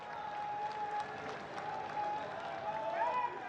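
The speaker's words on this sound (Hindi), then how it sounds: "आओ जोरदार तालियां नाल उन्हां दा स्वागत" A crowd at an outdoor public political rally in Jalandhar, Punjab, claps steadily, a faint, distant wash of applause with a sustained tone running through it.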